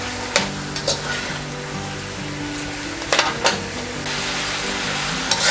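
Homemade chicken tocino sizzles and fries steadily in a pan, a continuous close crackle broken by a few sharper spatters and stirring clatters.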